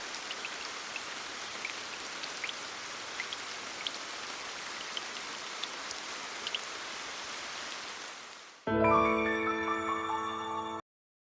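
Steady morning rain falls at Izumo Taisha shrine, a soft, even patter of drops on the grounds that runs unbroken for most of the stretch before a sudden louder, tonal passage cuts in near the end.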